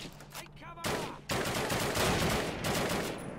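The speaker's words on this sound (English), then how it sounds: "Getting shot from everywhere." Gunfire in Call of Duty (the original game) during the Allied campaign's V-2 Rocket Site mission: dense, loud volleys of rapid shots rattle almost continuously after a brief quieter start.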